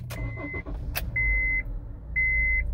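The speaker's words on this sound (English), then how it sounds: "Now I'm gonna try it to start the car first." A 2007-2013 Honda CR-V engine starts and runs with a steady low rumble close by, while high electronic beeps sound twice over it.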